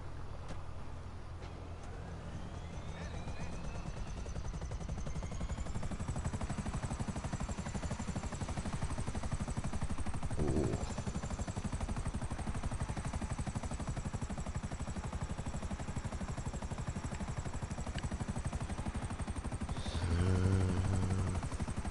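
Helicopter flying in GTA 5, a continuous thudding rotor drone with engine whine that holds steady and loud throughout, with a few faint background game sounds.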